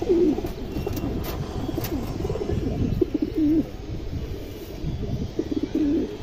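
Several pigeons coo close by in repeated soft, rolling calls spread across a few seconds, with a steady low murmur of birds underneath and no talk.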